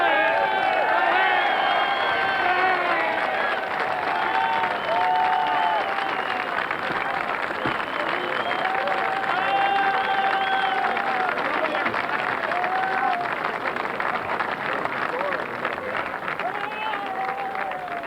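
A large horse racing crowd applauds and cheers steadily throughout, a dense roar of clapping with rising shouts and whistles.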